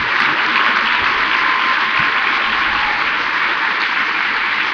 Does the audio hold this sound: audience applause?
yes